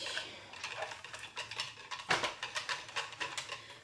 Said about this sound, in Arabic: فوالا نحرك الميلونج ديالي